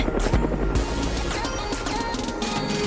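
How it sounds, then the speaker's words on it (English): A helicopter whirs steadily in the background, its low rotor drone mixed with scattered clatter and bright game-like sound effects. "It's a helicopter!"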